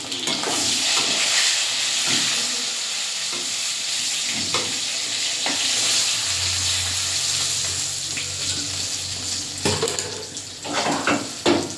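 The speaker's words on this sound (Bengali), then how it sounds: "লবণ দিয়ে দেবো, আর হলুদ দিয়ে দেবো, দিয়ে ভেজে নেব।" Brinjal slices fry in hot oil seasoned with salt and turmeric, a steady loud sizzle running throughout with occasional stirring scrapes and clinks of a pan.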